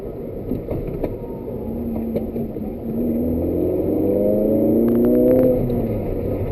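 A 2005 Suzuki Ignis Sport with the M15A 1.5-litre engine and stock exhaust apart from the tip, revving hard inside the cabin, a loud steady drone with rising engine tones that climb through the rev range.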